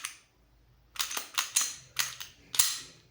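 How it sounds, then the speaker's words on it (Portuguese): The mechanism of an Arex Delta 9mm pistol clicks crisply several times in close succession, sharp metallic snaps up close in an otherwise quiet room. "Encaixou, só dou um clique para trás"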